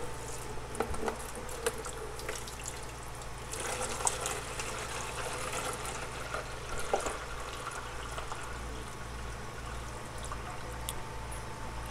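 Nutrient solution, Maxi Bloom mixed to about 350 ppm, poured into a coffee container for a hydroponic water culture setup, giving a soft continuous trickle and splash at moderate level over a low steady hum, with no talking.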